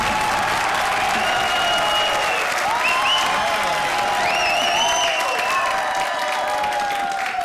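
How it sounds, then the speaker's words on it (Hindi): A studio audience at a Hindi comedy show breaks into loud, sustained applause, a dense wash of clapping with a few whoops and cheers rising over it. "और जोरदार तालियां हमारी हॉरर जोड़ियों के लिए।"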